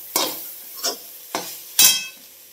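Crushed peanuts are stirred into cooked cabbage curry in a pan, giving four short scraping, sizzling strokes of a spoon, close and fairly loud, with no talking.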